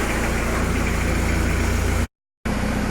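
Antonio Carraro Tony TR10900 tractor engine running at a steady idle, loud and close with an even low rumble, cutting out abruptly for a moment before resuming.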